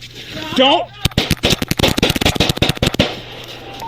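Police officers open fire during an officer-involved shooting, a rapid, loud volley of sharp gunshots cracking in quick succession right after a brief shouted voice.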